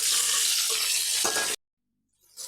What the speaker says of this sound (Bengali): সেদ্ধ আলুগুলো একটু ভালো করে আমি ভেজে নেব